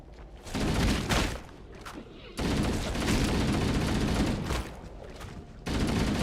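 Pistol gunfire in Halo: Combat Evolved amid a noisy firefight, loud stretches of shooting and explosions broken by brief quieter gaps, close and intense throughout.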